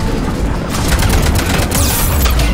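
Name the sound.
gunfire in the video game Mass Effect 3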